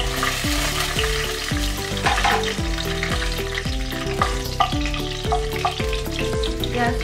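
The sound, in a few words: cashews and dry fruits frying in hot oil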